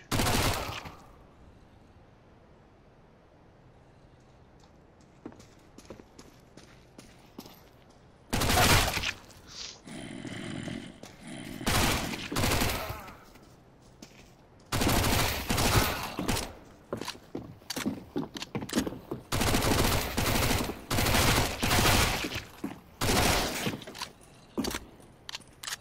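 Gunfire in Counter-Strike: Global Offensive on a workshop map comes in a single opening burst, then repeated rapid bursts and single shots later on, loud and sharp, with quieter stretches of footsteps and movement between them.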